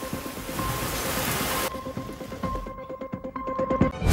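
Light drizzle in Kodaikanal amid thick mist gives a steady, soft hiss of rain with scattered drop patter, joined by a faint tone and a louder rustle at the end.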